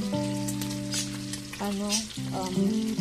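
Bacon and luncheon meat frying in a pan make a constant crackling sizzle, partly masked by tonal background music playing over it.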